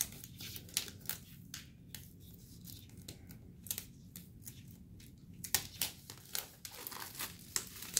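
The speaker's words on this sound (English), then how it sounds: "Let's open it up real quick. Being really careful with my X-Acto knife." Quiet crinkling and tearing of plastic packaging around a planner with gold foil accents as an X-Acto knife cuts it open, a run of soft scattered scrapes and crackles up close.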